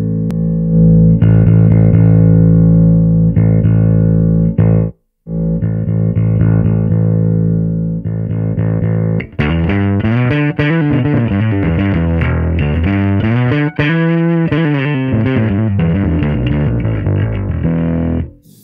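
A bass guitar through an Ampeg Venture V7 amp with a VB-210 cabinet and overdrive plays sustained low notes, first clean-ish held tones, then a thicker, buzzing distorted phrase with sliding, warbling pitch.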